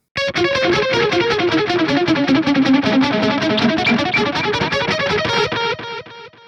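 Distorted electric guitar through a Triple XXX amp plugin playing a descending line, notes echoing with a rhythmic dotted delay that trails off into repeats at the end.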